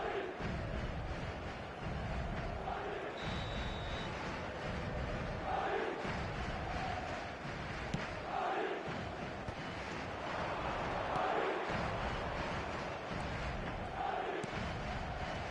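Stadium crowd noise from an eFootball match featuring Real Madrid, a steady broad roar with swelling surges and a brief whistle-like tone, continuous throughout without clear speech.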